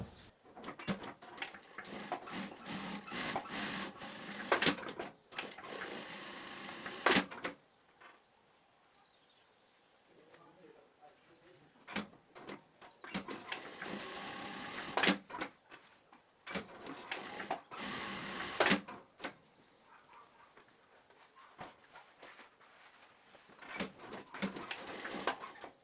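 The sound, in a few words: industrial straight-stitch sewing machine sewing women's trousers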